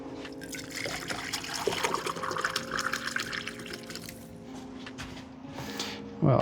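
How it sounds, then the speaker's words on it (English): Water is poured into a worm bin mix of shredded paper and compost and stirred, giving close trickling, splashing and wet squishing sounds with a faint tonal hum in the background. "We'll add in some water so that we can mix that all up and get it ready for the worms"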